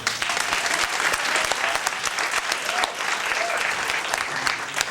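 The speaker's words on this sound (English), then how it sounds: "So I like a big round of applause" Sustained audience applause at a community event hosted with District Council 37, dense and steady throughout with some voices mixed into the crowd.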